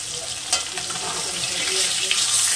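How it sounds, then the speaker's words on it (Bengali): Fish fries lightly in oil in a pan at close range, a steady bright sizzle with a few sharper crackles and pops. "মাছটাকে আমি হালকা ভেজে নেব, খুব কড়া ভাজবো না।"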